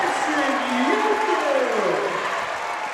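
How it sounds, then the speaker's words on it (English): A high school basketball crowd roars and applauds loudly in a gym after a go-ahead shot, a sustained wash of cheering with an announcer's voice carrying over it. "And the crowd is going crazy."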